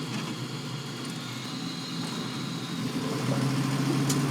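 Car with a freshly installed sway bar driving along, its mid-pitched engine humming steadily up close and swelling a little louder toward the end, with a steady road rumble beneath.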